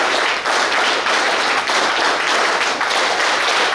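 Loud, dense applause fills a hall at a felicitation during a 2000th alcohol de-addiction camp event in Deralakatte, Mangaluru taluk, with steady clapping from a large crowd throughout.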